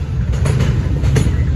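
A Norfolk Southern train rolling along the tracks close by, with a loud, continuous low rumble and faint wheel clatter running through the whole moment.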